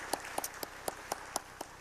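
A church congregation gives a round of applause after a choir's worship song. The clapping is faint and sparse, with distinct separate claps falling at a steady rhythm, heard from a distance.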